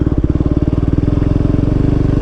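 A used KTM RC 390 or Duke 390 motorcycle engine idling up close, loud with a steady rapid thumping pulse and no speech over it.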